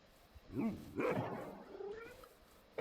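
A dog in the video game Minecraft gives a few short whimpering yips and barks, soft and close, separated by brief quiet gaps.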